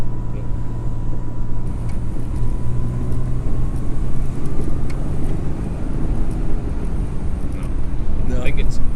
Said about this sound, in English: I'm having to rev it a bit harder.